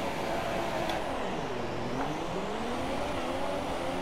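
F1 cars launch off the grid at the start of a race in F1 2017, with a dense, continuous engine roar and rising revs. Several engines overlap at steady loudness, with brief pitch sweeps as cars accelerate and pass.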